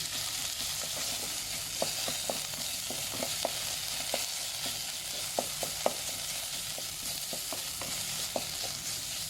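Beef frying with red curry paste in a pan, a steady soft sizzle under repeated scraping clicks of a spatula stirring at an uneven rhythm, close and fairly quiet.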